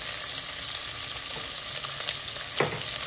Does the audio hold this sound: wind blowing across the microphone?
no